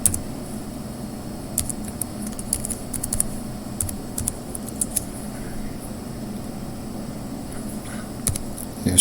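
Computer keyboard keys tapped in short irregular bursts while commands are entered to compile amateur radio software, close and fairly quiet over a steady room hum.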